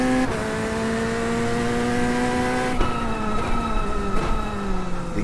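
Race car engine in the iRacing sim, Ford versus Chevy, a loud sustained drone with rising pitch as it accelerates, then sharp gear shifts that drop the tone around the middle and again near the end, with no talk over it.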